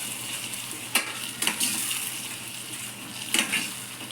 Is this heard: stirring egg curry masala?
yes